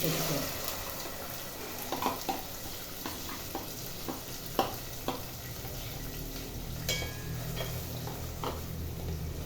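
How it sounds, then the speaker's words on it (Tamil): Masala fries in hot oil in a home kitchen, giving a steady, close sizzle and crackle that lasts throughout. Occasional soft clicks of a utensil against the pan break through now and then. "இந்த எண்ணெயில் கொஞ்சம் நேரம் மசாலா வேகட்டும்"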